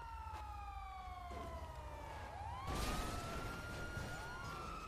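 A police car siren in a role-play video game wails in rising and falling sweeps, fairly quiet and steady, with a slight synthetic quality and no talking.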